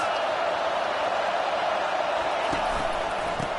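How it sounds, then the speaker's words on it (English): Stadium crowd noise from a college football video game, a steady wash of cheering that holds at an even level, with a few faint thumps near the end. "This crowd trying to make life miserable for this offense."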